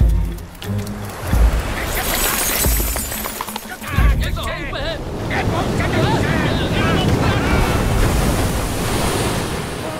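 Sea waves surge and crash loudly in a continuous roar, with heavy wind buffeting and a brief voice early on.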